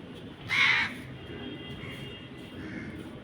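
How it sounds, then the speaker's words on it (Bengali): A crow caws loudly once nearby, a short harsh burst, then background hum and faint distant noise continue with no further calls. "কাক ডাকছে"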